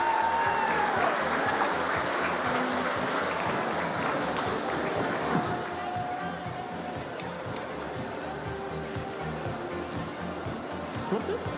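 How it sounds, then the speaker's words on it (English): An audience applauds fourth place finisher Helene Wolf at the Dock Masters 2020 finals, a steady wash of clapping that slowly fades while a voice talks over it. "Please give her a warm round of applause."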